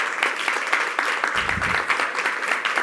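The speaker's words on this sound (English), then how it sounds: "Round of applause." Audience applause at a startup competition awards moment, steady dense clapping filling the hall throughout, with a brief low rumble partway through.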